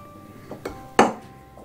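Chickpeas being tossed with gram flour and spices in a bowl: a few sharp, irregular spoon clinks against the bowl, close and moderately loud, with quiet gaps between them and no talking.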